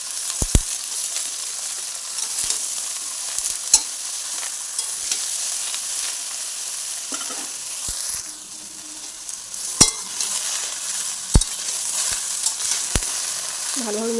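Small-cut potato and eggplant pieces fried in hot oil in a pan, a constant close sizzle broken by occasional sharp clinks and scrapes of a spatula stirring them together, no talk.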